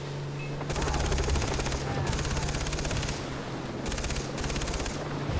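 Sustained automatic gunfire in the video game Far Cry 3, loud, dense bursts that cut in and out over a steady low game hum, with rapid repeating shots.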